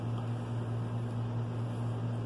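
A car windshield wiper motor runs steadily with a constant low electric hum and whir, close and unbroken, with no voices.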